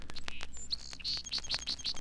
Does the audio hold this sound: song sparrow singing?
yes